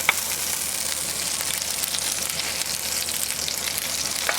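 Onion sizzles and fries steadily in a pan with vodka for a chicken fillet in tomato and vodka sauce, a loud, continuous crackle with occasional stirring and no talk.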